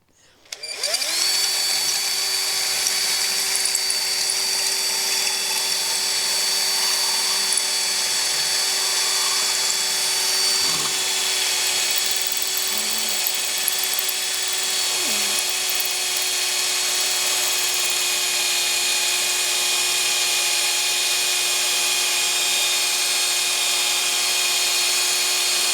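A power tool runs steadily and loudly, cutting through wood while making a wooden hinge for a business card box; a sustained droning whine holds for the whole stretch with little change.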